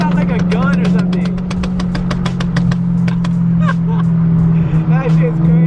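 A BMW E92 M3 running on E85 drones loudly with a steady exhaust note while driving, heard from inside the car, with excited voices talking over it throughout.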